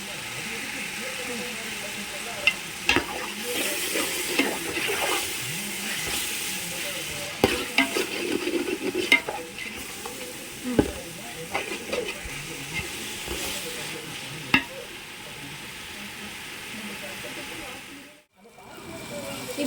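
A pan of seeraga samba chicken biryani base sautés with a soft, continuous sizzle, punctuated by irregular spoon clicks and scrapes, fairly quiet overall, dipping briefly near the end.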